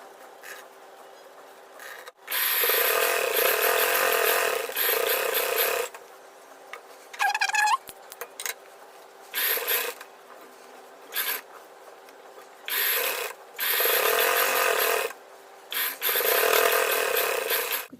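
Sewing machine stitching piping along a designer collar-neck blouse, running in repeated bursts of rapid mechanical whirring with short pauses between runs, close and fairly loud.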